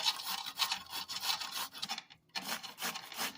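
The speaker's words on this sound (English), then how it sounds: "So we just go ahead and grate this." Zucchini being grated by hand on a grater in a home kitchen, a steady run of close, raspy strokes with a short pause before the scraping resumes.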